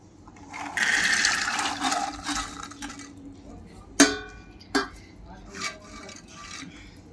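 Water pours steadily into a metal pressure cooker over white peas for a couple of seconds, followed by a few sharp metallic clanks and quieter shuffling.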